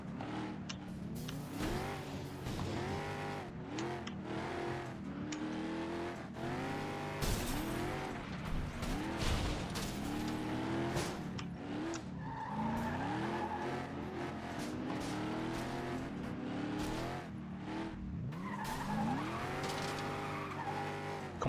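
Car engine roaring and tires squealing through a spin-out in the racing game Flatout 2, a loud continuous wail of revving and skidding that rises and falls over about twenty seconds with no talk.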